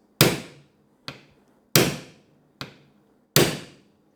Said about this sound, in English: So I'm going to give it 3 good whacks.